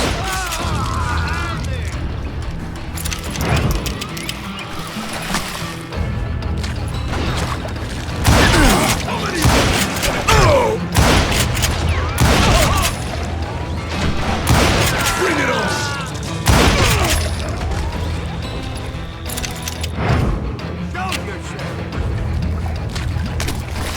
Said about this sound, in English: It was then that a fusillade of bullets come raining down from on high